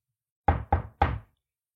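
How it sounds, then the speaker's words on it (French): Three sharp, close knocks on a grandmother's door, struck by a wolf in a classic fairy tale, ring out in quick succession against total silence. "Il se précipita chez la grand-mère et frappa à la porte."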